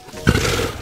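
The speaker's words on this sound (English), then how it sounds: "I hear a lion roaring in my ear." A lion's roar comes in as a short, loud, deep burst with a rough, growling body, starting suddenly and holding steady for a moment, with no talk over it.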